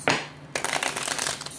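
Tarot cards are shuffled up close: a quick riffle burst, a short pause, then a longer stretch of rapid papery flicking.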